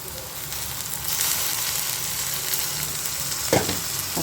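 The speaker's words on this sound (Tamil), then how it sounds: "இப்போ இந்த தக்காளியும் நல்லா வதக்கி விட்டுருக்கோம்" Tomatoes sautéing steadily in a hot pan, a continuous crackling hiss with a brief louder clatter near the end.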